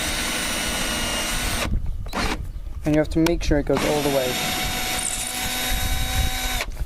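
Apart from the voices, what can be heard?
electric drill boring pilot holes in wood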